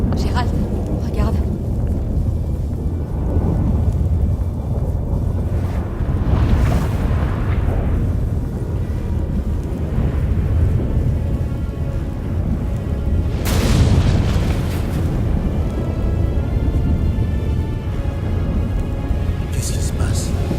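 Deep rolling thunder rumbles through a stormy scene in The Witcher 3, with a heavy crack around the middle, continuous low booms throughout and a voice speaking over the storm.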